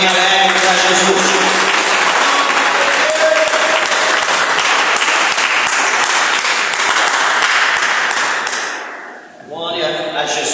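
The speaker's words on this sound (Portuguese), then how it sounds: "dê uma salva de palmas bem alegre para Jesus" Loud, sustained applause from a church congregation fills the hall for about nine seconds with a dense, steady texture, then fades out, followed by someone speaking.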